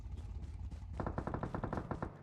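A fast burst of about a dozen automatic gunshots rings out in PUBG Mobile after a quiet second, rapid and evenly spaced, fairly close.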